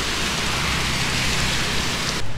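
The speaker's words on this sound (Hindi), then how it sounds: "खतरनाक बारिश, भयानक बारिश में हम लोग फंस गए।" Heavy rain pours down in a dense, loud, steady hiss that fills the whole scene without letting up. The roar cuts off abruptly at the very end.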